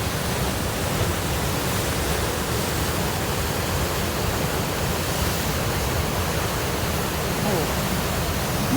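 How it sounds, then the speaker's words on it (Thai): Water pours through five open spillway gates at Lam Takhong Dam as a loud, unbroken roaring rush that fills the whole clip. "ไงที่เขาปล่อยลงมาจากสันเขื่อนนะ นั่นนะปล่อยลงมานะ"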